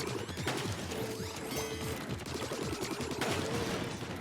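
Bombs exploding during a boss fight in the Splatoon game Octo Valley, a dense run of sharp bursts and crashing impacts layered over busy game music, loud and continuous.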